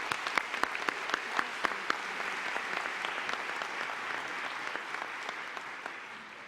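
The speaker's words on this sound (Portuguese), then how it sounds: "Uma salva de palmas para a banda da Polícia Militar." A crowd at a solemn session applauds the Military Police band with steady, dense clapping that stays fairly even in level throughout, a few sharper individual claps standing out near the start.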